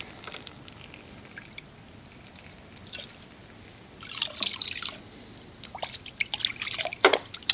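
Optimum No Rinse concentrate splashes and drips into a bucket of soap mixture for a snow foam blend. The pour comes in the second half as a few close, uneven liquid trickles and drips over quiet room background.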